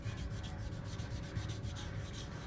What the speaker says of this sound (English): So I'm just sanding to see what my surface looks like